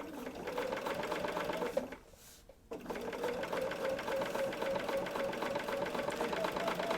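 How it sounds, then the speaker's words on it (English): A sewing machine runs a lock stitch across a quilt block, a steady close mechanical whir with a brief pause near the middle before it resumes at an even pace. "give us our lock stitch and start sewing"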